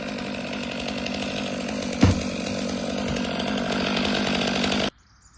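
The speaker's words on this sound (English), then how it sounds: "I forgot how nice it is to use a petrol saw" A petrol chainsaw drones steadily as it cuts through a rotten ash tree, with a brief knock partway through, then cuts off abruptly near the end.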